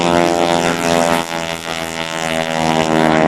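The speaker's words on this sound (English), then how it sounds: "There's an airplane you don't sneak out of town in, right there, for sure." A Pitts-style aerobatic show plane at the 2004 NAS Oceana Airshow takes off, its propeller engine roaring loud and steady throughout, with a slight dip midway before building again.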